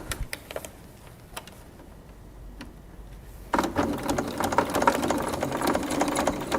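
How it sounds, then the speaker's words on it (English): A sewing machine clicks a few times, then runs in a steady, close mechanical chatter as it stitches through thick fabric layers. "You might just need to ease your sewing machine through that"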